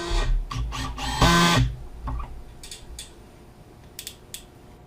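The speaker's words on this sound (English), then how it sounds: "And then I screwed in the screws." Screws driven into wood with a power driver, several short whirring bursts up close with one longer loud run, followed by quieter clicks and handling noise in a cold workshop while modifying a Pelican Bass Raider boat.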